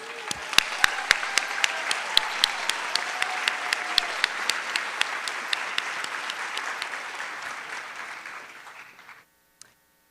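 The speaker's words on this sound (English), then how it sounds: "Please stand up for your round of applause." An audience at a school district convocation claps steadily for about nine seconds, with a few sharper claps standing out near the front, before the applause fades away.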